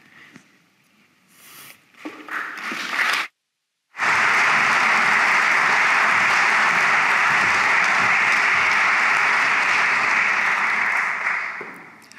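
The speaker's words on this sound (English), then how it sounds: "I hope that clapping's not for me" Audience applause at a debate on postmodernism, building from scattered claps into a loud, sustained ovation after a brief cut, then easing off at the end.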